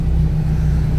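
A Porsche 959 idling in the Goodwood pit lane gives a steady, loud, low engine rumble with a strong constant hum, close by and without speech.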